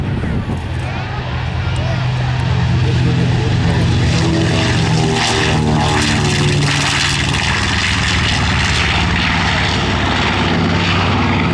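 A World War II-era propeller airplane roars through its takeoff roll at an air museum event, the engine loud and sustained with a steady harmonic drone and rising power, voices faintly audible beneath.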